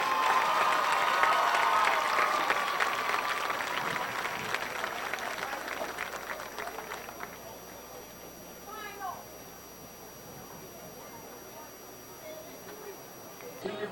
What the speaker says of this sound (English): How about a nice round of applause for these Dothan High School senior athletes?